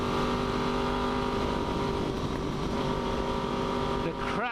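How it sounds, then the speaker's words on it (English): A motorcycle used for despatch riding runs loud and close, its engine droning steadily before sharp pops and crackles burst from the exhaust as the throttle rolls off near the end. "Crackle on this exhaust when you roll off is just the shit."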